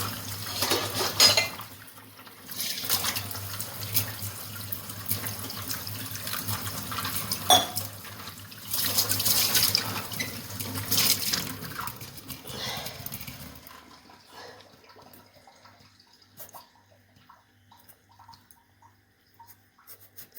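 Water splashes and swirls in a bowl with steady stirring and occasional clinks of a utensil, fading to quieter clatter near the end.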